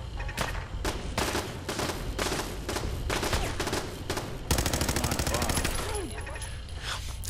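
Gunfire in the video game Fallout 4, including a .38 weapon: rapid, loud bursts of shots in a dense, rattling barrage that grows into continuous fire, with talk faintly mixed in.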